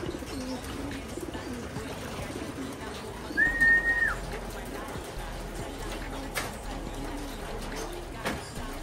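Giant pigeons in a pen after a flood give soft, low cooing that rises and falls in the background. One brief whistle-like call and scattered knocks are also heard, along with nearby speech.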